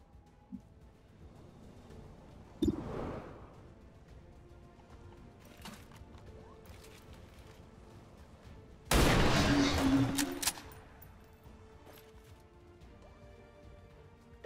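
Weapons firing rapidly in a video game: a sharp early shot, then a dense, loud burst of gunfire lasting over a second, with quieter game ambience elsewhere.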